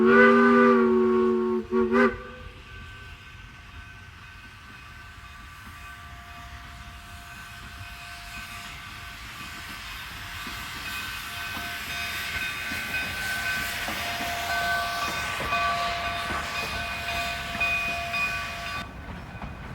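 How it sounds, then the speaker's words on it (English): Rio Grande narrow gauge steam locomotive No. 489 rolls into Chama past a water tank and wooden coaling tower, opening with a loud chime whistle, then a sustained rumble and hiss of the moving train that swells toward the end. "Number 489 and its train soon arrive at Chama."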